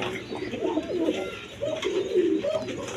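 Pigeons at a Bangladeshi pigeon seller's loft coo in repeated low, throaty rolls, close and fairly loud, with two or three rising bursts over steady background murmur.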